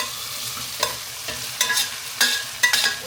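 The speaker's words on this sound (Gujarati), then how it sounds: "પાસ્તા ધીરે ધીરે નાખી દઈએ" Pasta tipped slowly into a simmering tomato gravy in a pan, giving a few soft splashy stirs and light sizzling bursts against a low cooking hiss, close up with no talking.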